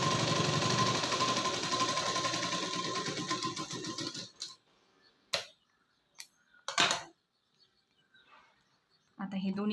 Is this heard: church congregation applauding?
no